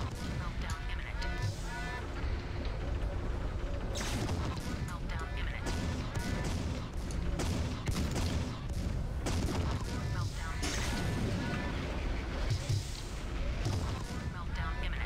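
Mech weapons fire in MechWarrior 3, with a dense, continuous barrage of booming and crackling shots and impacts that stays loud throughout, under occasional talk.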